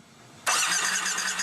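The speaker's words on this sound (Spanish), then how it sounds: "Harley has a legendary sound. People talk about the sound of our bikes." A Harley-Davidson motorcycle engine starts up suddenly after a near-silent moment, then runs loud and close for the remaining second.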